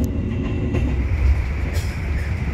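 A passenger train on the Gambir to Jogja route runs at speed on the rails, a loud, steady rumble with a faint rhythmic clatter of wheels, heard from inside the carriage with no talking.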